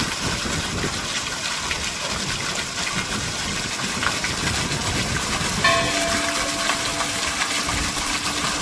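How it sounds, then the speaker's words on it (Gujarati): Water from a fountain beside a Shiva statue in a temple courtyard splashes in a steady, broad rushing wash, heard up close and continuous with faint tonal hums entering near the end. "આ પાણીના ફાઉન્ટેનનો અવાજ જે છે ખૂબ સુંદર એવો સંભળાઈ રહ્યો છે"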